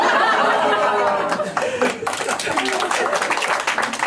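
A French stand-up comedy audience bursts into clapping mixed with chuckles and crowd chatter, the applause swelling after a quieter start and continuing densely to the end.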